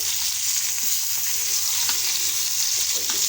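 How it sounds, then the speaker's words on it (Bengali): Koi fish frying in a wok with spice paste, a steady, dense sizzle and crackle that fills the clip evenly, close and loud, with faint occasional stirring scrapes and no talk. "এই যে আমি মাছটা কড়াইতে দিচ্ছি ভেজে নিচ্ছি"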